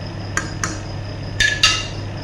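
A spoon stirring lamb kabsa with about a kilogram of rice in a cooking pot knocks against the metal in a few short, scattered clinks over a low steady background hum.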